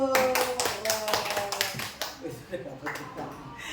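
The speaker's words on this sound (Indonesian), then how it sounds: "Oh, kasih tepuk tangan dulu." A classroom of students clapping hands together in a burst of applause, dense overlapping claps that fade out after about two seconds, with a teacher's voice and other talk mixed in.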